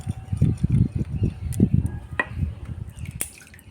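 Small splashes and drips as a little water is poured onto freshly transplanted petunia seedlings in soil, a soft rapid patter close by that tapers off.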